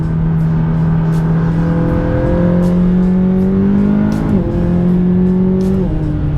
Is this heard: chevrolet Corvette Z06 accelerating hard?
yes